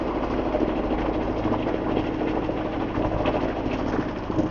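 A water jet ride's engine runs in a steady, loud mechanical drone with a rough, rattling texture throughout and no talking.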